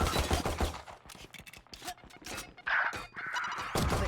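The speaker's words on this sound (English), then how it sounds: "Gunfire going out" Rapid bursts of gunfire from the video game Valorant crackle in quick, uneven volleys, mid-distance and fairly loud, with a brief ringing tone partway through.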